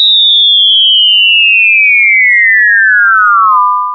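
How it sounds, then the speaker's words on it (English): Two pure sine tones slide downward together at a fixed 200 hertz spacing, a smooth loud glide that levels off near the end before fading. "Here's two sliding pitches, but the difference between them will stay at exactly 200 hertz."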